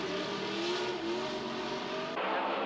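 Race cars at speed on a circuit, engines screaming with a steady high whine that shifts pitch as they pass, loud and continuous with a sudden change near the end.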